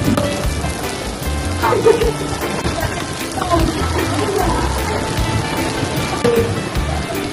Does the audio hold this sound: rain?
yes